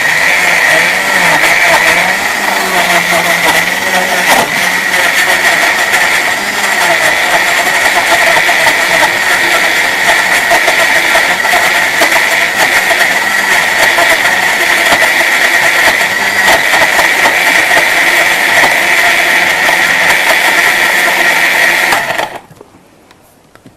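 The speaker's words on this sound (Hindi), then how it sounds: "साथ ही शामिल करेंगे 1 कप दूध और इसको हमने कर लेना है बहुत अच्छा सा ब्लेंड।" An electric blender whirs through milk and ice cream pieces, a loud, steady, continuous motor roar that holds for over twenty seconds and then cuts off abruptly.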